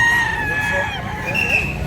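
Rooster crowing at Carbon Market Cebu, a loud, close, drawn-out cock-a-doodle-doo with hen clucks mixed in and busy market background.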